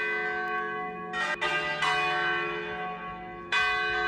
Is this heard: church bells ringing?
yes